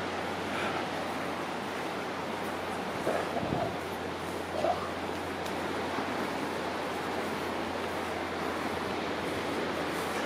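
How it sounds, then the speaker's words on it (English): Steady rushing roar of water, probably a small waterfall pouring over a sea cliff on the north coast of West Somerset, heard as continuous broadband wash with wind, fairly loud and unbroken, with a couple of brief faint bumps. "there's the sound of pouring water behind us"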